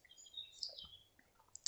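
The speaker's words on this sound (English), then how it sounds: "Oh, listen to those birds." Birds singing outdoors, faint scattered chirps and short tweets at a distance over quiet background.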